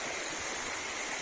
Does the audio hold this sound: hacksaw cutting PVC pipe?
no